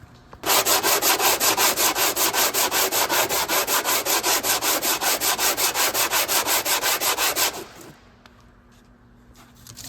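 A brush scrubs a Subaru Outback 2.4L front brake caliper adapter bracket in fast, steady, evenly spaced strokes that stay loud and close for about seven seconds, then stop abruptly, leaving a quiet background.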